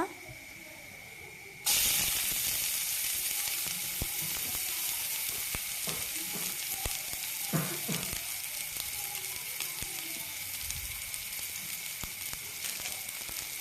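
Cabbage manchurian drops into hot oil and bursts into a loud, steady sizzle that runs on continuously, with scattered crackles and pops throughout.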